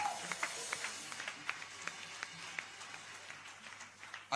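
A church congregation claps and cheers, a moderately faint spread of scattered hand claps with crowd noise running steadily for several seconds.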